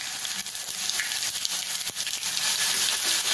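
Crushed garlic goes into hot oil already popping with mustard seeds, giving a close, continuous sizzle and crackle that stays loud and even the whole time.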